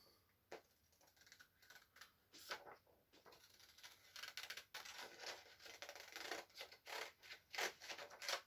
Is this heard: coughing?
no